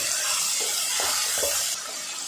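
Cashews and sesame seeds go into a frying spicy kat vada curry base, with a steady close sizzle and a couple of soft stirring knocks.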